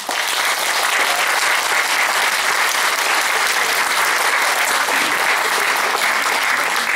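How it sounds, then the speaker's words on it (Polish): A hall audience at a meeting with a priest professor breaks into sustained, dense applause, steady and loud for the whole stretch, with no voices over it. "Jeszcze raz gorące brawa."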